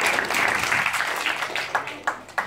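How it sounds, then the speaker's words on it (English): Audience applause during a talk on how to get noticed, broken clapping with scattered sharp claps and crowd noise throughout, fairly loud and close, ending in a few distinct louder claps. "big round of applause for her."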